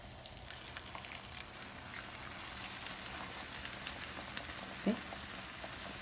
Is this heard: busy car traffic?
no